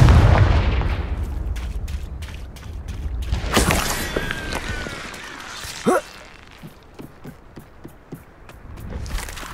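Confringo fire spell blasts in the game Hogwarts Legacy, heard as loud booming explosions with crackling debris, one heavy burst midway and a sharp bang near the end, over low rumbling combat ambience.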